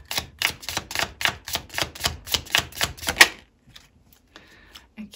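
Tarot cards slapped down one after another from a deck in a quick run of about a dozen crisp, close snaps, then a pause with a faint soft rustle and a light tap near the end.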